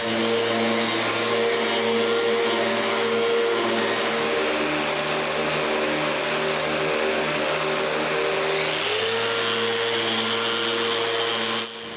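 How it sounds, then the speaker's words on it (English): A power sander works across horizontal wood surfaces of a bookcase at up to 220 grit, giving a loud, steady motor whine with shifting tones and no pauses, then stopping at the very end. "I also sand the two horizontal surfaces up to 220 grit."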